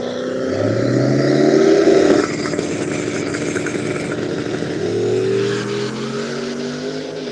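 Two turbocharged LS-powered trucks, one a Turbo LS S10, launch side by side at a street car shootout drag race, engines roaring and revving hard, then easing off and surging again, loud and near with no voices.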